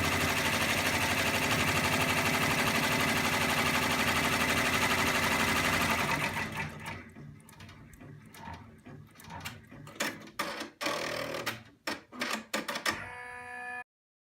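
A Valiant multi-needle quilting machine stitching batting runs with a dense, steady mechanical whir, then shifts to irregular clattering and ratcheting bursts before stopping abruptly.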